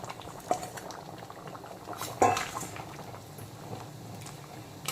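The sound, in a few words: green jackfruit and fried potato curry boiling in gravy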